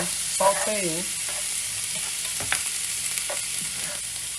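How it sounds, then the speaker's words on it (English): Vegetables and onions sauté in a pan with a steady close sizzle, broken by several utensil scrapes and clinks, with a brief whining tone near the start. "we want to go ahead and just start sauteing"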